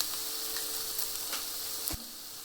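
Garlic and spices sizzle steadily in a hot pan with leftover rice, a continuous bright hiss broken by a few soft clicks and one sharp tap near the end.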